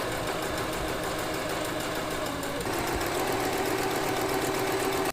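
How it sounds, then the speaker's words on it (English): A sewing machine stitches a straight line along the edge of scrap fabric, a steady close whirring hum with a fine rapid pulse that runs continuously and stops abruptly at the end. "I'm just going to sew just a straight line along that edge"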